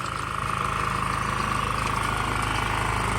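A Kawasaki AR700 engine runs with its rotary gear engaged, a steady, close, even drone with no change in pitch throughout.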